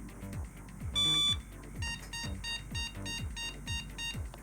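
A Soyo SY-015G 386 motherboard with no video card installed gives POST error beeps, one long tone followed by a string of short, evenly spaced beeps, close and clear over faint fan hum.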